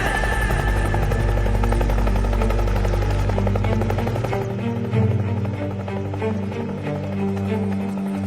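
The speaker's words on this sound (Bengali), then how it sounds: "স্যার হেলিকপ্টার আসছে স্যার, হেলিকপ্টার আসছে স্যার।" A helicopter approaching, its loud rotor thudding in a steady rapid pulse with a heavy low roar that dominates the scene throughout.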